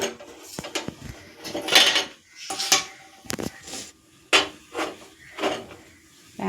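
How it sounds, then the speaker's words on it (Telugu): A metal pan is set and shifted on a kitchen stove, producing a series of loud clanks and scraping knocks at uneven intervals, close up and without talk. "ప్యాన్ పెట్టి"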